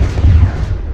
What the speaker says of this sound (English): Those are rockets, Spiky. They blow up.